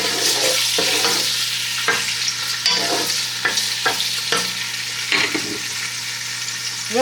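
Sliced onions frying in olive oil, a loud continuous sizzle with repeated scraping stirs of a utensil across the pan every second or so, no voices.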